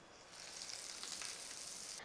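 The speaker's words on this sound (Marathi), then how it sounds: "आपली फोडणी तयार झाली आहे या चटणीवर ओतू" Hot oil tempering is poured over a chutney and gives a soft, steady hiss that swells slightly and holds for a couple of seconds. It is faint and even, with no voices.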